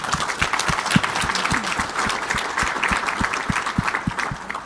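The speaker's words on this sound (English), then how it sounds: "I think that deserves a round of applause." An audience at a Canadian healthcare and medical isotopes event applauds in praise of Dr. Rebecca Wong, a full crowd clapping steadily with a few loud nearby claps punctuating a dense, sustained wash.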